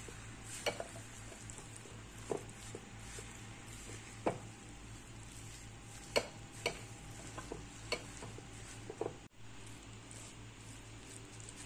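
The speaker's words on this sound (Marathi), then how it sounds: "याला छान मिक्स करायचं आहे आपल्याला" A spoon stirring grated mango into pickle masala, making soft scraping and a few sharp clicks against the pot at irregular intervals over a quiet, steady background.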